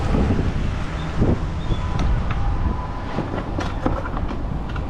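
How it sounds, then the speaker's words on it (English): Strong gusty wind buffets the microphone in a loud, continuous low roar with surges, while biking through Tokyo, with faint clatter underneath. "Wow, super blustery."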